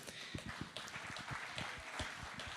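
An audience at a fintech pitch award ceremony applauds, a continuous rattle of many hands clapping, fairly distant and soft in the room.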